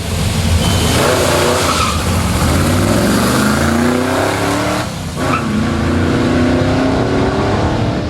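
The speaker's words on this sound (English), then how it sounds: "it's powered by a 331 cubic inch V8 engine" A 1955 Cadillac's 331 cubic inch V8 engine roars loudly and continuously, its revs rising and falling with a brief dip midway, rough and close.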